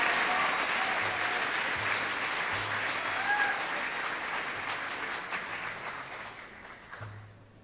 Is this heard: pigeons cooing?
no